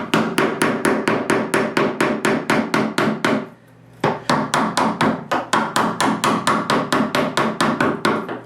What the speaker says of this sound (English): And just keep tapping until that piece comes out